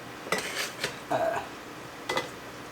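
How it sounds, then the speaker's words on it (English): Hot water is poured into glass canning jars for pressure canning, with a few sharp clinks and knocks of glass and metal spread apart, close and moderately loud. "so now I'm going to fill these jars"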